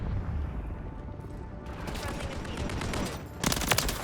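SMG gunfire from the RAM 9 in Modern Warfare 3, sounding as rapid, loud bursts of close shots among sharp game effects, with a heavy burst near the end.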